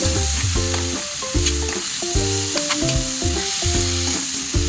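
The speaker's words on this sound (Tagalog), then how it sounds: "ilagay na po natin ang alamang. Sa amin po ito ay balaw ang tawag. Yan, igisa na po natin." Shrimp paste (alamang) with chili sautéing in a hot pan, a loud, steady sizzle with rhythmic scraping and stirring strokes recurring throughout, no voices.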